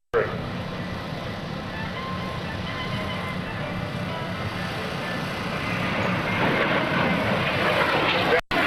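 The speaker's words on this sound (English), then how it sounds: "this beautiful airplane, being the F-86" An F-86 jet flies at the 2002 NAS Oceana airshow, a broad steady roar that swells louder toward the end of the pass before cutting off abruptly.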